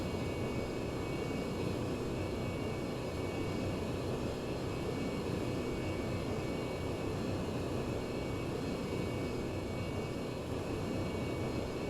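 Steady, dense jet engine roar from F/A-18 Hornet fighters flying nearby in the IL-2 1946 flight sim, a continuous broadband rumble that holds level for the whole stretch with no voices.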